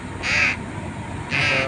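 A young crow being hand-fed calls twice, two loud harsh caws about a second apart, close by over a faint background hum.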